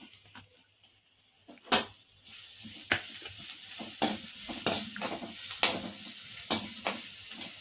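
Chopped onion and garlic frying in hot oil for homemade cabbage Manchurian, a steady close sizzle broken by repeated sharp scrapes and clinks of a spoon stirring the pan.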